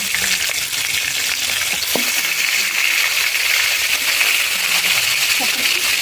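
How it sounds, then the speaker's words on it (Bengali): Chicken leg pieces frying in oil, a loud continuous sizzle with a few clinks and stirring knocks over it, no talk. "লেগ পিস চিকেন নিয়ে এসেছি, তো সেইগুলোকে আমরা তেলে দিয়ে দিচ্ছি, ভেজে নেব"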